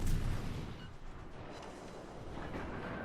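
Warship guns fire in a naval battle video game, with a muffled heavy boom at the start that trails into a rolling low rumble, faint and distant.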